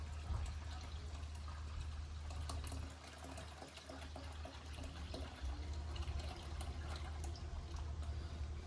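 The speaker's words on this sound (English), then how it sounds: "I'm going to top it up with water. This is cold water." Cold water pours steadily from a tap to top up a red cleaning solution in a container, making a continuous splashing rush that dips briefly and then resumes.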